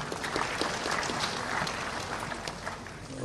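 Audience applause fills a conference hall as a speaker is introduced, a dense, steady wash of clapping from many hands at moderate level throughout, with no talk over it.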